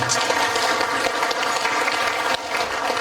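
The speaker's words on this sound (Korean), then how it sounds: "큰 박수 부탁드리겠습니다." Seated audience at an invited roundtable on the Korean economy gives a brisk round of close, crackling applause, many hands clapping steadily for a few seconds with no talking.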